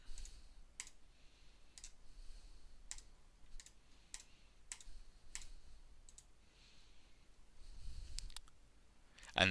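Mouse clicks on squares in a chess program, sharp and isolated, spaced about a second apart against a quiet background, with no talking.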